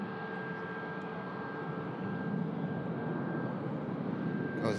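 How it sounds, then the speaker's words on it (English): A Ryanair jet climbs out after takeoff at Manchester Airport, its engine roar steady and moderately distant, swelling slightly in the second half. "Shallow rotation, climb out from the Ryanair."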